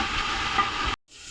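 Ginger garlic paste frying in a pot for beef yakhni pulao, a dense, steady sizzle heard close up that cuts out abruptly near the end and then resumes faintly.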